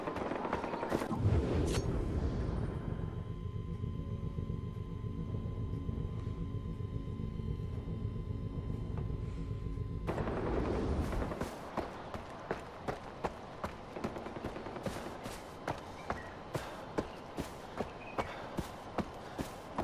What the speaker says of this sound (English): with all that gunfire, you know it's not a tactical fight.